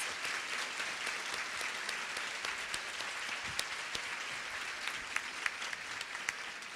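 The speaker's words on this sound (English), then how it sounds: "Let's give a round of applause to these very generous companies and foundations and individuals." A luncheon audience at a women's fund charity program applauds warmly, a sustained wash of many hands clapping with a few sharper claps standing out near the end, no speech over it.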